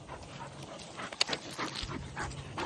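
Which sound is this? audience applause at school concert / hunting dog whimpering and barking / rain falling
hunting dog whimpering and barking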